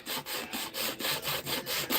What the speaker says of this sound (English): But the sandpaper does just as good. It just takes longer.